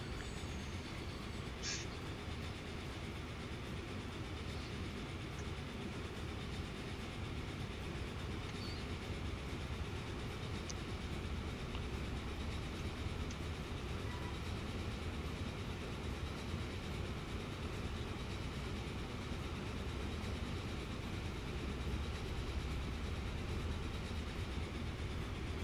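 A train runs in the railway management game Transport Fever, a steady, even rumble of wheels and engine holding at constant low volume throughout, with no talking.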